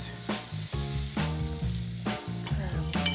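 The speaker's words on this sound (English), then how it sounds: "I'm gonna come over here and fry it up. Hit my pan with some olive oil." Onions, bell pepper and minced garlic sizzle and fry in hot olive oil in a pan, a loud steady crackle with a few stirring bursts throughout, close and alone with no talk.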